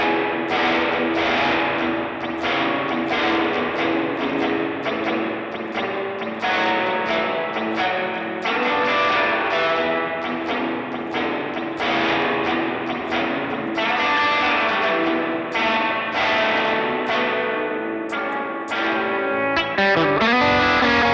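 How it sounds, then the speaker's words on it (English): A Luscious Amplification guitar amplifier plays with its reverb effect and dwell circuit engaged, a continuous loud wash of distorted, strummed guitar with echoing tails, steady throughout and free of talk. "You can kind of hear the reverb."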